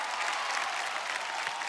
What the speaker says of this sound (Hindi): कम ऑन, तालियां.